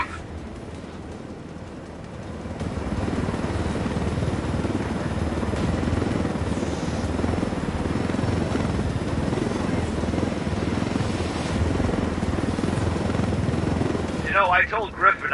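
A helicopter in the video game Ghost Recon Wildlands spins up and roars, its rotor noise rising after a couple of seconds into a loud, sustained drone that carries on to the end, with brief clatter at the close.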